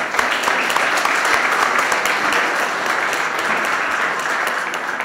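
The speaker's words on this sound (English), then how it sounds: "I want to give you all a round of applause" An audience claps loudly at a Martin Luther King Jr. Day celebration in St. Edith Stein Parish, a dense, sustained round of applause with sharp individual claps standing out near the front and no pause.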